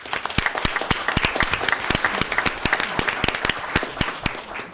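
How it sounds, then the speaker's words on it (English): A city council meeting audience gives a round of applause, dense crisp hand claps in a continuous burst heard close and fairly loud, with no talking over it. "if you could please give them all a round of applause."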